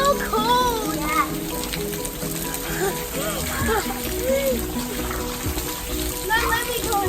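On a rainy day, a waterfall pours and splashes in a constant broad rush, heard close by, while children's excited voices chatter and call out over the water.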